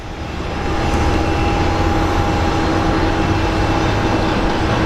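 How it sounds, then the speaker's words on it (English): An American Airlines airliner in from Dallas Fort Worth at Phoenix Sky Harbor airport gives a loud, steady jet roar. It swells over the first second, then holds with a thin, constant whine and no talk. "American 1796 coming from Dallas Fort Worth"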